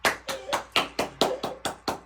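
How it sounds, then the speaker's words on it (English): Small group clapping in a talk-show studio, about ten evenly spaced claps over two seconds, fairly close and moderately loud with no talking. "let's give her a little round of an applause"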